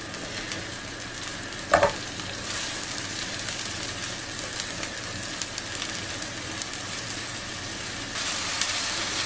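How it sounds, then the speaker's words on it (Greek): Onion and garlic sizzle and fry steadily in a pan, a continuous close hiss with occasional stirring scrapes and one brief clatter, no voices. "Τσιγαρίζουμε καλά το κρεμμύδι και το σκόρδο μας."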